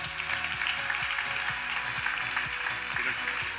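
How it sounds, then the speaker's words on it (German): An audience at a triathlon awards ceremony applauds an honoree, a steady wash of clapping with faint background music tones and a murmur of voices underneath. "Hier ist unser Applaus für Felix Rüdiger."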